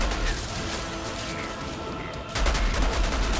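Continuous gunfire in the shooter game Outriders during a boss fight blends into a dense, rapid crackle that steps louder for the final second, with no talk.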